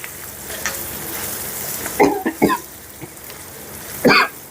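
Ridge gourd pieces fry in oil in a pan for a Telugu-style pickle, giving a steady low sizzle with a few louder stirring scrapes and clatters near the end.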